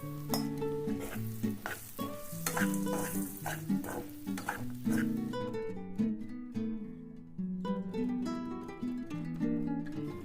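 Onions and peanuts sauté in a pan for bread upma, hissing and sizzling steadily at close range, while a utensil stirs and scrapes in irregular clatters throughout.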